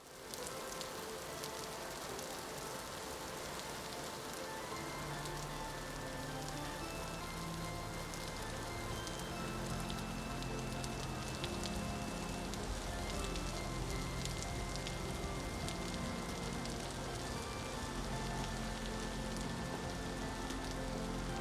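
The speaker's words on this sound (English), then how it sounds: "Yeah, this is some serious rain." Heavy rain in the video game Vintage Story pours down in a dense, continuous patter and hiss that stays loud and unbroken throughout, with no voices.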